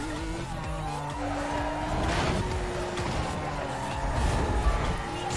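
Race cars roar and skid in Need for Speed Most Wanted, with engines droning loudly and tires squealing through sharp turns in a dense, continuous racing soundscape.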